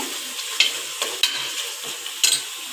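Tomatoes frying in a pan as they are stirred, with a low sizzle under sharp scraping strokes of a spoon at irregular intervals, close by and with no talking.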